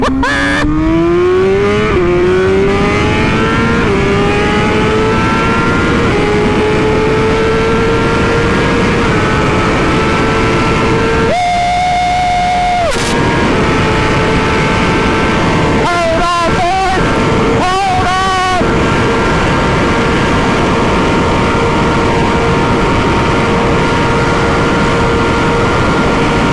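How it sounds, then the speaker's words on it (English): A fast motorbike engine screams and revs hard up through the gears, loud and close, with rising pitch sweeps, a few brief gaps between shifts, and a voice talking over the roar. "Oh, this bike's so fast."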